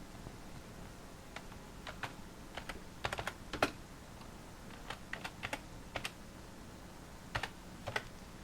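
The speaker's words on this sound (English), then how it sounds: "Now you need to type in your name and your organization." Keys on a computer keyboard are tapped in short irregular bursts while entering a name and organization during setup of a home-built PC, crisp nearby clicks over a faint steady fan hum.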